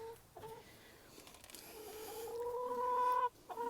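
Homestead chickens in a coop and yard cluck and murmur close by, with one hen drawing out a rising, sustained call before breaking off into short clucks.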